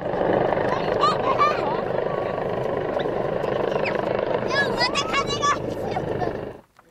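A Tochigi Prefecture disaster-prevention helicopter hovers overhead during rescue hoist training, its loud, steady rotor roar filling the air until it cuts off abruptly at the end, with voices talking over it.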